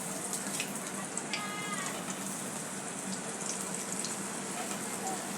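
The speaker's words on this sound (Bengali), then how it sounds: "লাল লাল ভাজা হয়েছে" Food fries in oil in a pan with a soft, steady crackling sizzle that continues evenly throughout, fairly quiet and close, with no other sound rising above it.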